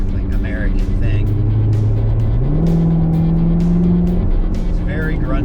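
A Corvette Grand Sport C7 with its 6.2-liter V8 rumbling loud and close, its low drone rising in pitch as the revs climb, under someone talking throughout.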